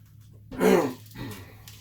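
A single short cough, close and fairly loud, followed by a softer exhale in an otherwise quiet space.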